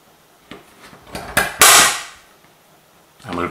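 A few sharp mechanical clacks and a louder crunching punch stand out against quiet, then a brief scrape of handling at the end, as four holes are punched in a part for a model vintage truck.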